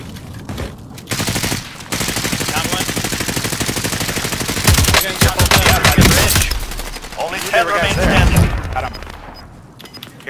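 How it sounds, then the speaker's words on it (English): Machine gun bursts and rapid gunfire from a battle royale video game firefight, dense and sustained for most of the stretch, with heavier volleys near the end and players talking over it. "They're shooting at us now."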